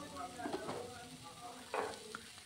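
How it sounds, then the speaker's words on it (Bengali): Spices and vegetables sautéing in a pan for broccoli in yogurt, a faint steady sizzle broken by a few soft stirring scrapes. "সব কিছুকে আবার ভালো করে কষে নিতে হবে।"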